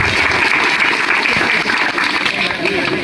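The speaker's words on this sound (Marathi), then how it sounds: "टाळ्या वाजवा जोरदार" Villagers at a Diwali relief-kit distribution gathering clap steadily and loudly, a dense wash of applause lasting a few seconds with faint voices mixed in.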